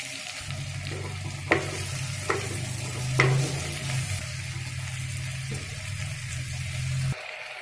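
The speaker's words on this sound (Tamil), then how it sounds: "போட்டு நல்லா வதக்கிக்கோங்க" Chillies and coriander leaves sautéing in a clay pot, a soft continuous sizzle with a low hum beneath and a few sharp clicks of a spoon against the pot, no voices.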